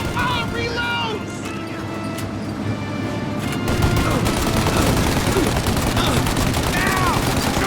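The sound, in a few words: gunfire in Mafia Definitive Edition video game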